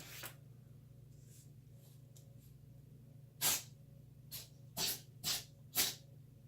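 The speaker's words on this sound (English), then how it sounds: "And there was my cat sneezing." A cat sneezes several times in quick succession, short sharp bursts near the microphone, after a few quieter snuffles in an otherwise still room.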